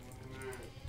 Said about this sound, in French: Ah, viens, la vache.